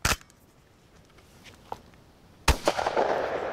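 Shotgun blasts from an MP-155 fitted with an Anaconda choke, fired at 35 metres with semi-magnum felt-wad loads: a sharp loud report at the start, a faint crack mid-way, then another loud shot followed by ringing echo.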